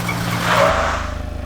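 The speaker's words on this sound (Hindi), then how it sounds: "अमन स्टॉप स्टॉप स्टॉप, गाड़ी रोक।" A car skids and brakes hard to a stop on a road, a short loud tire squeal over engine noise that cuts off into a low idle.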